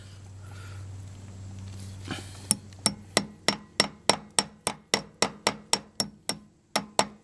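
A hammer taps a part back into place on a Case 1494 tractor front wheel hub, about sixteen sharp metallic strikes in an even, fast rhythm, close and clear, with a brief low hum before the strikes begin.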